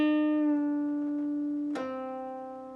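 A single picked guitar note from a song is bent up a full step and held, then released back down with a bright attack, ringing out alone and slowly fading.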